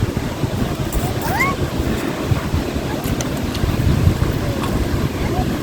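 Sea waves wash at the seaside under heavy wind buffeting on the microphone, a steady broad surf roar with faint distant voices and a few bird-like chirps.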